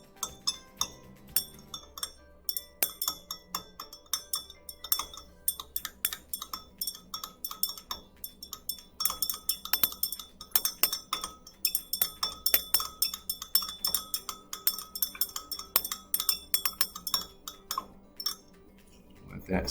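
Spoon stirring magnesium hydroxide antacid into an acidic solution in a glass, giving rapid, close, bright clinks against the glass that grow busier and louder toward the end.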